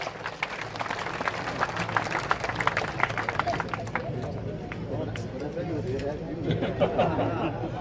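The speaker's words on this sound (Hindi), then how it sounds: "जोरदार तालियां बजा के स्वागत करो" A crowd at a college welcome for education minister Mahipal Dhanda claps rapidly and continuously, with chatter and voices mixed through the applause.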